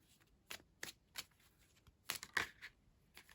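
Tarot cards are shuffled by hand in a quiet room, several quick riffling bursts with short pauses between them, close and soft.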